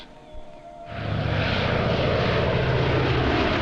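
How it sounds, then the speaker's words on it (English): A propeller airplane engine in a 1945 war film swells in abruptly after a brief quiet moment and then roars loud and steady as the plane flies over. "Only one plane."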